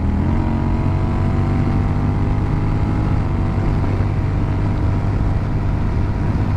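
Honda Rebel 1100 motorcycle with Ohlins suspension accelerating hard on a road in a full-throttle pull toward 100: a steady, loud engine drone with strong wind rush throughout, no talk.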